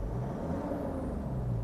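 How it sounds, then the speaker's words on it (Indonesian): A high-mileage diesel Mitsubishi Dakar with a VGT turbo is revved in place, giving a steady low engine rumble with a faint high turbo whistle rising over it, close and loud. "Wah, suara turbonya tuh."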